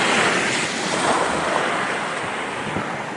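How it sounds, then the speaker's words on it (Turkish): Sea waves break at a surfing beach in Istanbul in a loud, broad wash of surf that fills the whole moment, with wind buffeting the microphone. "Nasıl dalga geçiyor"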